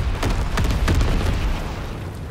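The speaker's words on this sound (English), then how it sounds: "Low altitude bomber inbound. Incendiary mission commenced." Incendiary bomber strike in the video game Call of Duty: WWII, a dense rumbling barrage of several booming explosions in quick succession, loud and continuous with no talk over it.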